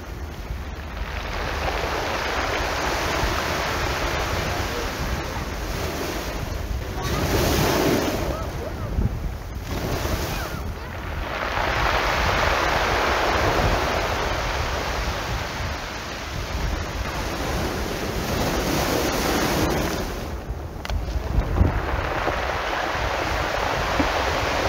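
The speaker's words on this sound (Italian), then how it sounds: "il suono unico del mare che si incontra con la spiaggia di sassi di San Cristobal" Sea waves break steadily on a pebble beach at San Cristobal on Gran Canaria, a loud continuous surging roar that swells and recedes in long cycles, with wind buffeting the microphone and no voices.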